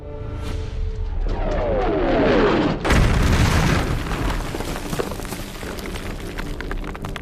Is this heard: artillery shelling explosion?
yes